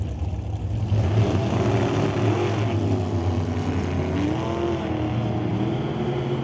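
NHRA drag racing cars on a Northwest Nationals drag strip idle loudly with a deep steady engine drone, pitches wavering as they creep into pre-stage, continuous and close with no clear launch burst.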